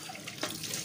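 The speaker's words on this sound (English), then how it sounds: "I'll be rinsing out the, you know, the main containers from the normal tap water" Tap water runs into a sink while baby feeder containers are rinsed, making a short, close, continuous splashing gush.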